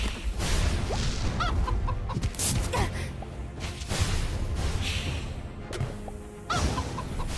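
Chickens cluck repeatedly in the Spell Disk video game, busy bursts of fowl noise with whooshing effects mixed in, loud and close throughout.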